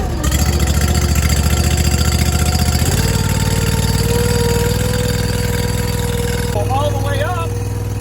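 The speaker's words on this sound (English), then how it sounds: "So let's fire up the Honda and run this lift through." A fuel-injected Honda engine on a log lift fires up and settles into a steady, close, mid-pitched running drone with a mechanical rattle. The load shifts partway through, and a voice speaks over it near the end.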